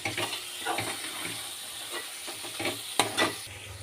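Chili powder masala frying in oil for a chicken semi gravy, a soft hissing sizzle with scattered scraping stirs and one sharp clack near the end, fairly quiet and without voices.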